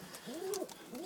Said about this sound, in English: I got here tipplers, racing pigeon, and high flyers.